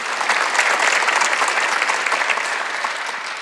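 A church congregation at an Easter Sunday worship service bursts into loud, sustained applause, with dense clapping that holds steady and then eases slightly.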